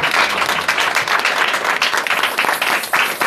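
Church congregation at a Sunday service applauding loudly and continuously, dense close clapping from many hands filling the room without a break.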